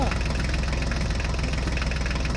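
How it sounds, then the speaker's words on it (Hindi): A toy tractor strains up a mound of soil with a steady, loud, buzzing motor drone that holds without pause, close to the listener. "हल्क भाई इस ट्रैक्टर गाड़ी को मिट्टी के ढेर के ऊपर चढ़ाने की कोशिश कर रही हैं"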